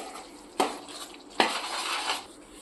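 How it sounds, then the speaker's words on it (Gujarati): Crushed peanuts, jaggery and ghee stirred in a pan for sing pak, with two sharp scrapes of a spoon against the metal followed by a steady, close scraping and mixing rustle. "બધું સરસ આપણે મિક્સ કરી દઈશું."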